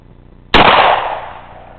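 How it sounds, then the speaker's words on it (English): A single shotgun blast fired from the shoulder: one sharp, loud crack that trails off in a fading wash of echo over about a second. "we're going to be shooting two shots from the hip, two shots from the shoulder"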